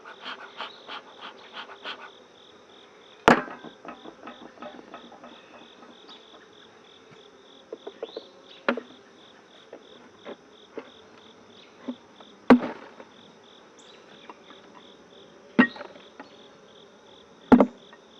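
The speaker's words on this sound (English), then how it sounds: "Hope you can hear that clunk of the bees." Steady insect buzzing of honeybees at a hive, with a faint continuous drone broken by several sharp knocks and clunks spread through the clip.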